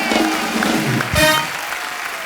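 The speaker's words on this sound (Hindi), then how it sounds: "एक बार आयुष्मान और परिणीति के लिए जोरदार तालियां।" A studio audience on a Hindi comedy talk show breaks into brief applause, a short burst of clapping heard up close.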